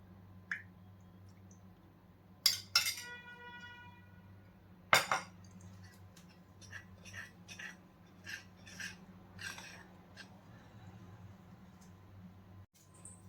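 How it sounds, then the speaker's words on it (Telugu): Flour being mixed with milk into a soft dough in a bowl by hand, quiet wet squishing and kneading under a low steady hum, with a few sharp clinks against the bowl. "దీంట్లో మనం పాలని కొంచెంగా యాడ్ చేస్తూ చపాతీ పిండిలాగా కలిపేసుకోవాలి"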